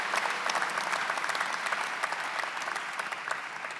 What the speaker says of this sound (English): One more round of applause there.